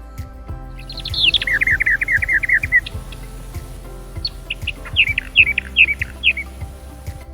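A warbler of dry woodlands and scrub sings bright, intricate phrases: a rapid run of repeated high chirps, a pause, then a second sparkling burst, close and clear over faint low background rumble, with no talk.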